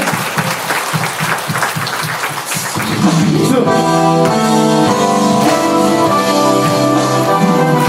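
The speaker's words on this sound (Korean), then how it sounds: "주님께 영광의 박수를 드리겠습니다" Applause from a worship concert audience, loud and continuous through the first few seconds, then giving way to music with sustained tones as a song begins.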